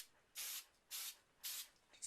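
Rem Oil lubricant sprays from an aerosol can while a Remington 870 Wingmaster shotgun is cleaned, three short, sharp hissing bursts close up, each about a fifth of a second, with quiet gaps between.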